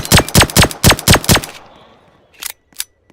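Seven quick, evenly spaced video game pistol shots ring out, then a pause and two sharper mechanical clicks, like a reload.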